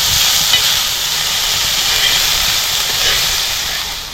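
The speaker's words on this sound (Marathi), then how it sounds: "थोडंसं तेल टाकायचं आहे म्हणजे कांदा लवकर भाजतो चांगला" Onion sizzles in a little oil on a hot tava, a loud, steady frying hiss that swells slightly and holds throughout, with no talk.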